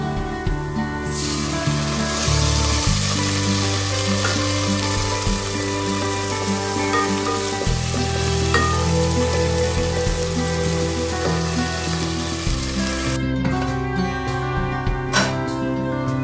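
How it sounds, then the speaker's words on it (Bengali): Garlic goes into already-fried onion in a hot pan, giving a continuous sizzling hiss that stays constant throughout under prominent background music. "পেঁয়াজটা ভাজা হয়ে গেছে আমি রসুন বারোটা দিয়ে দিব"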